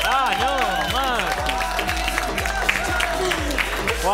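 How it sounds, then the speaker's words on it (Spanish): An audience bursts into sustained applause and cheering as a female guest is welcomed onstage at a televised show, dense clapping under an announcer's voice and a strong rhythmic musical beat. "fuerte aplauso para Kitty Locano"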